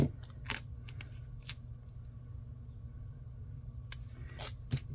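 Scissors snip through paper while trimming a floral planner decoration, a few crisp cuts near the start and again near the end, close and fairly quiet over a low steady room hum.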